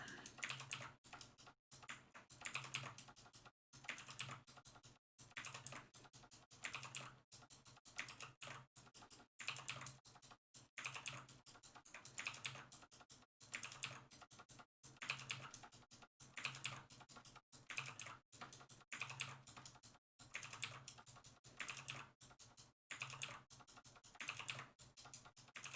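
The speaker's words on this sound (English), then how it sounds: "More keyboard ASMR." Continuous computer keyboard typing with quick irregular bursts of keystrokes and short pauses, close and clear throughout with no voices.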